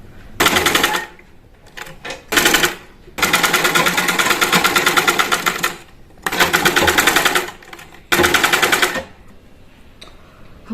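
A sewing machine runs straight stitches down the centre of a sleeve to set its thread piping on a designer three-piece outfit, buzzing in several loud, close bursts with short pauses between runs.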